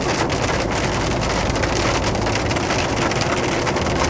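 Heavy rain pours down steadily, a dense continuous hiss of drops drumming on a surface, with nothing else heard.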